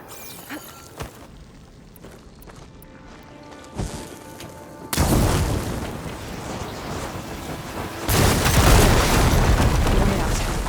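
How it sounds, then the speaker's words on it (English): Blaze barrels hit with fire ammo explode in the Horizon Forbidden West video game: after a quieter stretch with scattered knocks, a sudden loud broadband boom erupts, then a second, even louder blast rolls on with rumbling debris. "Hitting those blaze barrels with fire ammo should do the trick."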